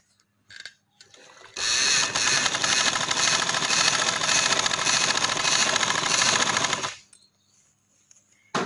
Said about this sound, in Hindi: आधे ही से पेपर पट्टी का आधा हिस्सा इधर से हमने सिलाई लगा लेनी है